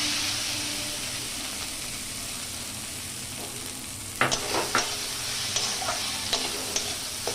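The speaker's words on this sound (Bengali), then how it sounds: "এটা আমি হালকা নাড়বো, খুব বেশি নাড়বো না। এটা দেখুন হালকা ভেজে নিয়েছি" Washed flattened rice (chire) stirred and lightly fried in a pan for Bengali payesh: a steady background sizzle, then from about the midpoint a series of sharp scraping and stirring strokes, close and fairly loud, with no voices.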